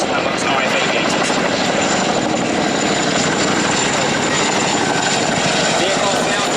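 A Chinook helicopter in a flying display at the Duxford Air Festival air show, its loud continuous rotor thrum and engine roar filling the air, with an announcer talking over it.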